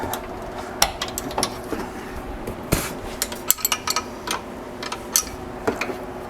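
Two wrenches work nuts loose on a 2009 gas EZGO RXV golf cart, making sharp metallic clinks and taps at irregular intervals, close and fairly quiet, with no talking.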